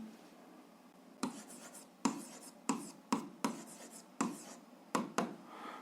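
Pen or chalk writing out an algebra equation, a run of sharp scratchy strokes and taps in quick irregular succession, close and fairly quiet with no talk.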